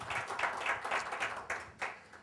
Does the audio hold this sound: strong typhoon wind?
no